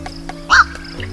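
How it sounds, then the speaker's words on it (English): A black-crowned night heron gives a single short, harsh squawk that sounds a bit like a duck's quack. The call stands alone over a faint, steady background hum. "Night heron."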